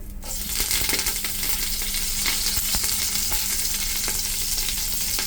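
Curry leaves sizzle and crackle in about two spoons of hot ghee, a steady, close frying hiss with small pops and spoon scrapes running throughout for Mangalore-style chicken sukka.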